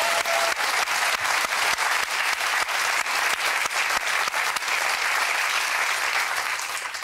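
Studio audience on the UK game show Deal or No Deal applauding, loud sustained clapping from a full crowd that holds steady throughout.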